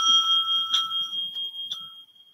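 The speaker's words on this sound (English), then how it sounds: "The timekeeper will ring the bell once" A timekeeper at a school English debate strikes a bell, two bright rings about a second apart, clear and close in a quiet room.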